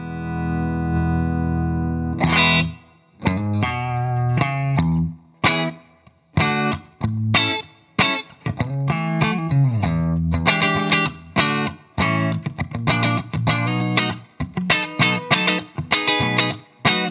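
Electric guitar played in choppy chords and single notes through a Vahlbruch Quantum Opto compressor/sustainer pedal, loud and even, with brief silences between phrases.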